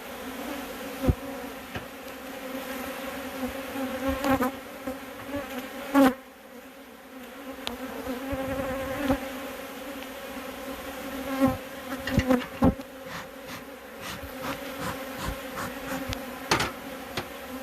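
Western New York honeybees buzzing around an opened hive with capped brood comb, a steady close drone of many bees with occasional louder passes and faint knocks of handling, no talk.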